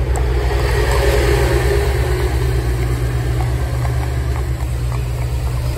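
Another motor vehicle comes along a wet road, a continuous loud low rumble with an engine drone and spray hiss that holds steady throughout, without voices.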